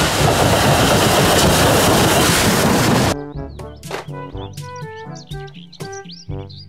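A toy Thomas the Tank Engine train sounds a loud, steady rumbling rush for about three seconds, then cuts to a cheerful run of bright chirping electronic tones and beeps.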